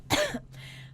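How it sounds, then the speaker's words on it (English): A single short, harsh cough bursts out up close, followed by a fainter breathy tail, alone without speech. "Oh, I feel a little cough coming on."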